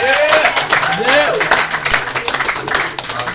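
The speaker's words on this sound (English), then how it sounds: "just give everybody a round of applause for coming and checking us out today." An audience at a live motivational event breaks into a short burst of clapping and applause, heard close and mixed with people's voices.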